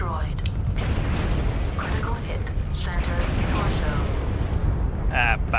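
Explosions and booming impacts as giant mech parts are destroyed in the video game MechWarrior Online, a dense, loud, continuous rumble with mechanical clanks, heard under overlapping voices.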